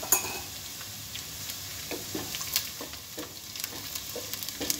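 Onions sizzle softly as they brown in a pan in a home kitchen, a quiet steady frying hiss with occasional light stirring scrapes and clinks of utensils.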